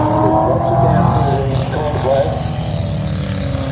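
A rally car on a steep hill climb stage roars past close by, its engine loud and sustained with a rising and falling pitch. A commentator's voice runs over it.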